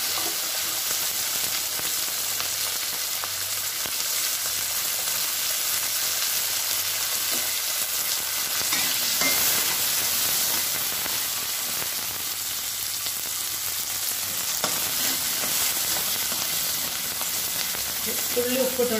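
Small onions fry in a pan, giving a continuous, even sizzle with light stirring that stays loud and unbroken throughout.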